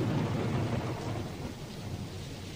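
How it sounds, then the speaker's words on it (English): Thunder rumbles over steady falling rain from The Doors' recording of Riders on the Storm, a continuous low rolling roar with dense hiss of rain on top, fairly quiet and uninterrupted. "Thunder."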